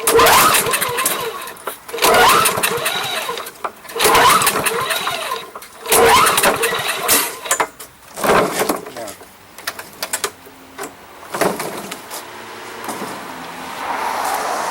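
A non-running lawn mower engine on choke is pulled repeatedly, sputtering in bursts before catching, with rough irregular chugging close by.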